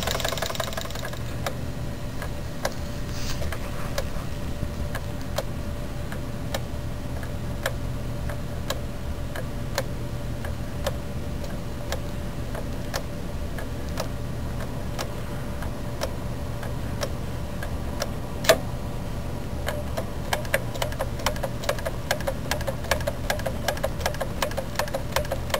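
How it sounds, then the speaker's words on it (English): A Jensen 25 model steam engine, its heat turned down for slow running, gives off a steady, even train of light mechanical ticks for the whole stretch, with no voices. "Just trying to adjust the regulator here to get a nice smooth slow run."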